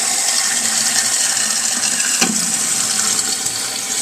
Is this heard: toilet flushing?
yes